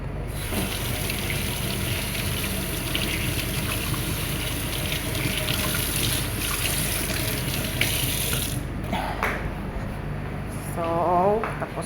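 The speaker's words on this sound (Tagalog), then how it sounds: "Hugas tayo ng kamay." Hands being washed under a running kitchen tap, with a steady close gush of water that stops near the end, followed by a few handling sounds and a brief voice.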